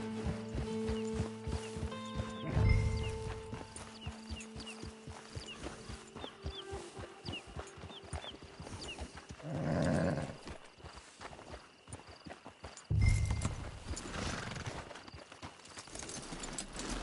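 Horse hooves clip-clop steadily at walking pace, fairly close and clear, with occasional creaks of tack and a few soft voices in the background near a camp.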